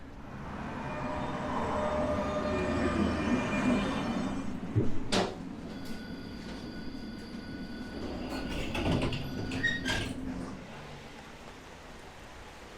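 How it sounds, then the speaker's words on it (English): A tram rumbles along with a steady low roar, then brakes squeal and doors clatter before it settles into a quieter hum. "So we're going to catch the tram now."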